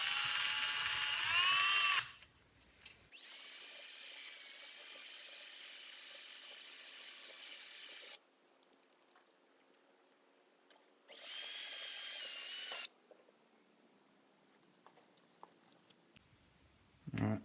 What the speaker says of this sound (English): So now I'm gonna actually hone the bore with this brake hone to make sure the piston seats nicely,